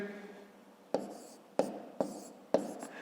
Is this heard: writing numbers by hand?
yes